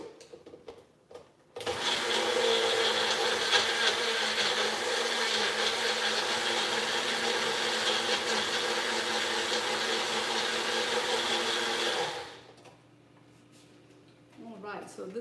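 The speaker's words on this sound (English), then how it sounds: "So next I'm going to blend this into a smooth paste." A kitchen blender whirs loudly and steadily for about ten seconds while pureeing a thick homemade marinade paste for Thanksgiving cooking, starting and stopping abruptly, with brief talk before and after.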